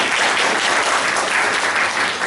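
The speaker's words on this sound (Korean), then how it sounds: "다시 한번 박수 치면서 마무리하겠습니다." An audience applauds at the close of a university professor's lecture, steady dense clapping that fills the room from start to finish with no voices over it.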